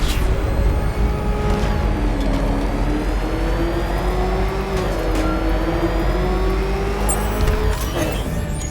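A Batmobile engine revs steadily during a high-speed pursuit in the Batman: Arkham video game, a loud continuous roar with a slowly shifting pitch and faint whooshes, no voices over it.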